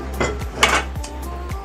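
A metal cooking pot clanks and scrapes on a stove, with several sharp knocks and rattles in quick, uneven succession, close by and alone.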